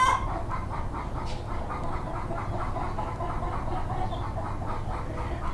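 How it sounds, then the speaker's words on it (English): Chickens standing in their yard in extreme heat, clucking and balking in a steady stream of low, repeated calls, moderately close, with a constant background hum underneath. "They're standing in their little yard,"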